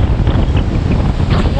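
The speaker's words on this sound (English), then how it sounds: "blasting wind in my face with white caps of water around me" Strong wind buffets the microphone over choppy whitecapped water, a dense roaring rush with faint splashing beneath and no clear pauses.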